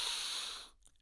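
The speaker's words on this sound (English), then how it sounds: "It is called belly breathing." A slow, deep belly-breathing inhale demonstrated as a calming technique, a close, steady airy rush lasting most of a second before fading into quiet with a faint trailing breath.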